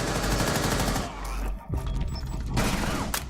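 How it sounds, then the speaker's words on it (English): Rapid bursts of automatic gunfire in a Rainbow Six Siege tournament match, loud and dense for the first second, then a brief lull before more shots and impacts return with faint caster commentary. "He pre-fires him, and Vale goes off"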